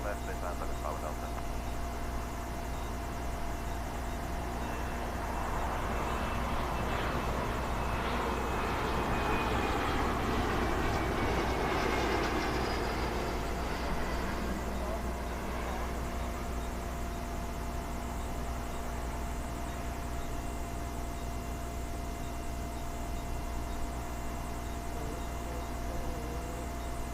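A jet airliner landing at London Heathrow Airport, heard as a broad, steady distant engine roar and rushing wind that swells slightly in the middle and persists throughout, with no voices.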